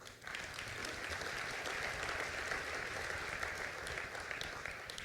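A crowd attending a mayor's state of the city address in Portsmouth breaks into sustained, even applause that rises quickly and holds for about five seconds, sounding soft and somewhat distant.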